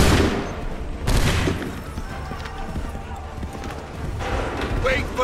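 Gunfire erupts in a battle scene in Assassin's Creed III Remastered, a sharp volley at the start and another burst near one second, with horses clip-clopping and shouted voices over a busy, loud background.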